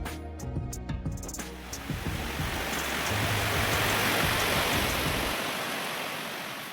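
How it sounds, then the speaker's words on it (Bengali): Heavy rain falling outside a riverside homestay near Jaldapara National Park, a steady broadband hiss that builds and holds, preceded by a few seconds of clinking and indoor sounds before the downpour dominates. "বাইরে বৃষ্টি পড়ছে, ঠান্ডা ওয়েদার।"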